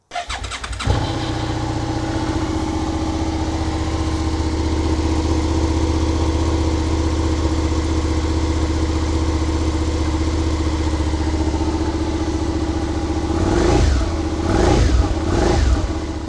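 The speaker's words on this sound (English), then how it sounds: "The engine on this is brilliant, and the exhaust, even though it's stock, does sound nice still" A Suzuki SV650 motorcycle with its stock exhaust starts up with a sharp catch, then idles in a steady, loud, close burble before a few quick throttle blips rise and fall near the end.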